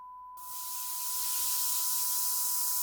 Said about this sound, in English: Here you are hearing both sine wave and white noise at their full peak level.